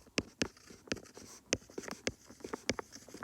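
Marker or chalk writing on a board during a statistics lesson, a series of short, crisp strokes and taps at an irregular pace, close and fairly quiet with no talking.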